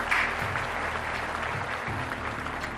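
A crowd in Seattle cheers and applauds steadily throughout, a dense, continuous wash of clapping and whoops with no break.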